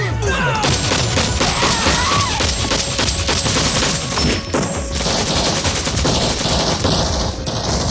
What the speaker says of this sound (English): Gunfire erupted instantly, Viet Cong soldiers swarming the jungle.